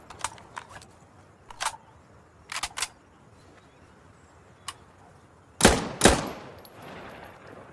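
Weapon handling in Insurgency Sandstorm: sparse sharp metallic clicks and clacks of a reload, in short separated bursts, ending in a louder double clack with a faint ringing tail.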